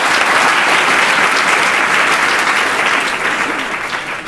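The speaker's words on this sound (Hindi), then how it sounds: "जोरदार तालियां हो जाए भाई।" Loud, sustained applause from a studio audience on a Hindi game show, steady dense clapping for over four seconds that eases slightly toward the end, with no voices over it.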